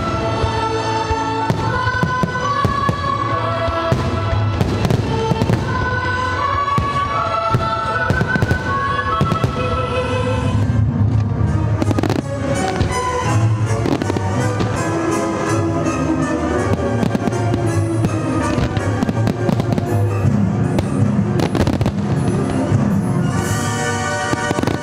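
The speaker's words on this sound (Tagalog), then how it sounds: "nagpakitang gilas noong February 19 and 26 sa kanilang mga nagagandahang fireworks display" Fireworks display at an international pyro musical competition, dense overlapping bursts and crackles layered with music, loud and continuous for the whole stretch.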